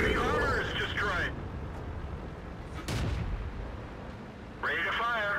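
An M5 Stuart tank's cannon fires in a video game, a sharp blast in the middle amid rumbling engine noise, with short bursts of spoken game announcements at the start and end.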